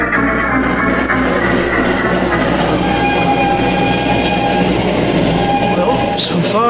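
A train from Berlin to the French border rolls along as a radio drama sound effect, a steady loud rumble with rail clatter and a brief higher hiss near the end, no voices over it.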